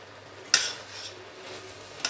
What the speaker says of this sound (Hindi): अब घी डालेंगे।